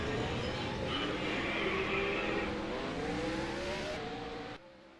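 Several race car engines rev and roar steadily at close range on pit road, a rising whine sweeping upward as they accelerate, ending abruptly.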